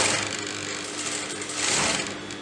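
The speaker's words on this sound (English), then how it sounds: "So I'm going to sew at the exact margin of the neckline." A sewing machine top-stitches along a neckline edge in one continuous, steady, fairly loud whirring run with a fine rapid needle chatter and no voices.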